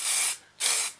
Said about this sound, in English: I've got some spray adhesive.